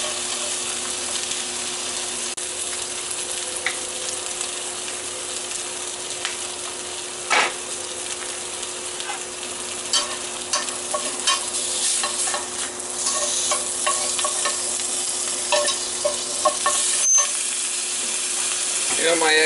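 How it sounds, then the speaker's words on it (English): Eggs frying over easy in bacon fat in a pan, a steady close sizzle and crackle running throughout with a few small pops and clinks, no talking. "A little bacon fat in there for the eggs so they don't stick."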